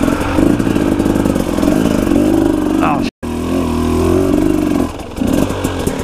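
A KTM 300 two-stroke dirt bike engine revs steadily while riding through swampy bush with mud and logs, loud and close, cutting out for a moment before picking back up.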